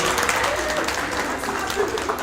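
A church congregation at a Salvation Army Sunday service breaks into applause: a dense, even wash of many hands clapping throughout, with some voices mixed in.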